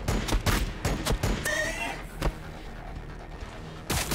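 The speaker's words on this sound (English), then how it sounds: "Picked up movement on the ore specs. Taking fire!" Rapid bursts of gunfire crackle through a Warhammer 40,000 video game battle, a loud volley of sharp shots up front that fades into softer, scattered fire, with little or no talk.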